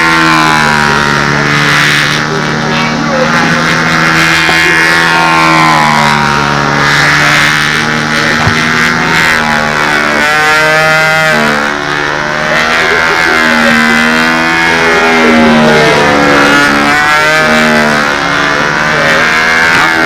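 Model airplane glow engine fitted with a 13x6 propeller, running at a loud, steady high-pitched whine with slight wavering pitch at a windy flying field, with faint talk underneath.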